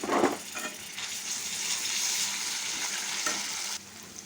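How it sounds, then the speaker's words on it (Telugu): Carrots frying with ginger garlic paste, a bright steady sizzle with a spoon clinking and stirring in the pan, an initial louder scrape then continuous crackle until it cuts off. "ఇప్పుడైతే ఇందులో ఒక స్పూను అల్లం వెల్లుల్లి పేస్ట్ వేస్తున్నాను"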